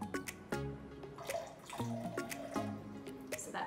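Plain white vinegar is poured for a corn salad dressing, heard as a close, quiet run of liquid drips and splashes in an uneven rhythm.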